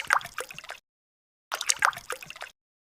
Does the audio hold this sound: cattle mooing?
no